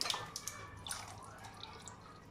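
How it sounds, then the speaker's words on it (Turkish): Faint trickling and dripping water from a tap, with small splashes and clinks close by, quiet and unsteady. "su alıyorum."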